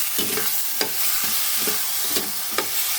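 Misua soup with chicken and patola being stirred in a pot, a steady bubbling sizzle broken by about six scraping strokes of a utensil, close and fairly loud, with no talking.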